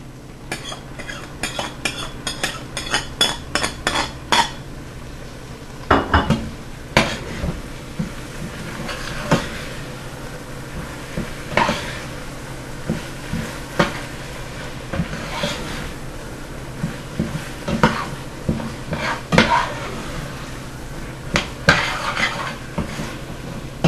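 Spoon stirring and scraping rice with tomato sauce against the sides of a pan for Somali rice, a run of quick clinking scrapes followed by irregular louder knocks and scrapes, close and alone.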